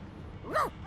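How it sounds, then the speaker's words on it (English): A dog in the video game Divinity: Original Sin 2 gives a short, rising-then-falling whine with a brief whimper trailing after, close and alone over a faint ambient game background. "The dog whines and continues pawing at its nose."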